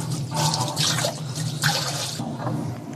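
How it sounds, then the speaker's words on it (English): Tap water runs steadily into a sink as something is rinsed at a food stall in Jerusalem's Old City, a loud continuous splashing rush with slight shifts as the item moves under the stream. "Just need to wash this for him."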